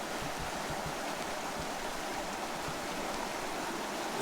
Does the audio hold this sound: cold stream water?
yes